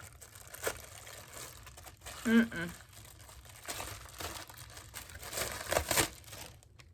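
A shipping envelope holding a resin mold is handled up close, giving loud crinkling and crumpling of paper and plastic in short bursts, with someone talking between the rustles.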